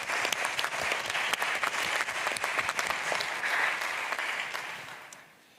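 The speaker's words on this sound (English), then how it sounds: "please give them a round of applause" Sustained applause from the audience at a new lawyers induction ceremony, honoring law school representatives who stand to be recognized, a dense steady clatter of many hands that fades out at the end.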